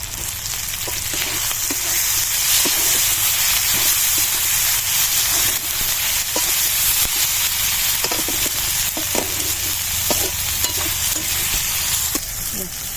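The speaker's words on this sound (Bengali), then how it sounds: "টমেটো কুচি দিয়ে দিচ্ছি" Chopped tomato sizzling loudly in a frying pan, a dense continuous hiss broken by regular clicks and scrapes of a spatula stirring, close and without talk.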